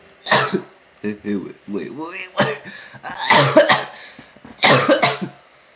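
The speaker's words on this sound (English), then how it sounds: "really bad cough right now" Several harsh coughs burst out in a cluster, close and loud, with brief pauses between them and some throat-clearing mixed in.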